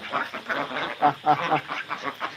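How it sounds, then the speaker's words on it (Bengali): A male duck on a farm quacks in a run of rapid, nasal calls, close and fairly loud, with no other sound over it. "আমার এই ফার্মের মধ্যে সবচেয়ে সুন্দর যে পুরুষ হাঁসটা"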